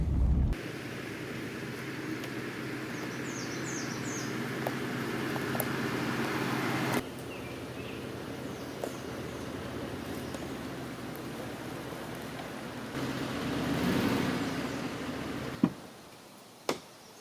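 A truck camper's road noise drones steadily while driving to a campsite, swelling briefly near the end before cutting to quiet, with a couple of faint clicks afterward.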